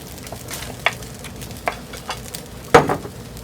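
Mutton meat going into a hot pan for fried rice, a low sizzle broken by a few spoon taps and a louder scraping toss near the end, close and without speech.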